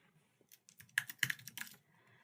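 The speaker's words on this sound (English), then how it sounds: "one of the few things I would still use a mouse and keyboard for is then going into this thumbnail and giving it a custom label" Quick, light keystrokes on a computer keyboard typing a custom label, a short close burst of clicks building to a busy flurry, then stopping.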